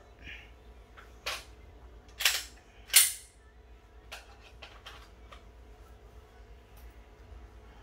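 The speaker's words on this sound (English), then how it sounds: "Put rounds on target." Handgun shots fired at a target during a firearm skills assessment: several sharp, short bangs, three louder ones close together near the start followed by fainter pops, with quiet background between.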